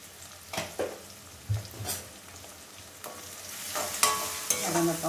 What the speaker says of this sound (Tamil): ஆனியன் வதங்கட்டும். ஆனியன் நல்லா வதங்கட்டும்.